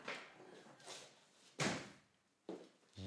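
A door opens and bangs shut indoors, giving a sharp thump followed by another knock and a clatter, with soft rustling shuffles before them.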